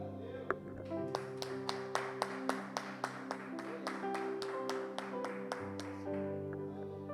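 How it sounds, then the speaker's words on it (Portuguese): A church congregation claps in a steady rhythm of sharp, evenly spaced beats over sustained keyboard chords, with no voices rising above the music. "E um aplauso ao Senhor."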